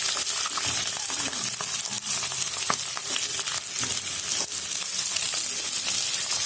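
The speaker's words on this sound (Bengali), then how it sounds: "ভাজা তেলের মধ্যে এবার আমি পেঁয়াজগুলোকে দিয়ে দেবো।" Onions frying in hot oil with cumin seeds in a home kitchen, a steady dense sizzle with scattered crackles and pops running throughout, close and fairly loud, with no talk.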